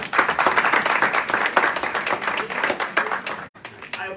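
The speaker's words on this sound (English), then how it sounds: "So we give them a round of applause." Audience applause for a TubaChristmas brass gathering inside a church, dense steady clapping from a crowd that breaks off abruptly near the end, with a few scattered claps after.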